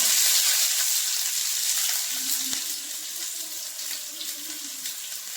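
Mustard seeds spluttering in hot oil in a pan as a cooking base for a Kerala-style jackfruit and chicken curry, a steady hissing sizzle with faint crackles that slowly eases off.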